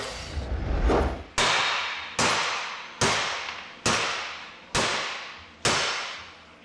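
A hammer strikes a welded metal turbo part on a car seven times in a steady rhythm, each blow a loud, sharp clang that rings out and fades before the next.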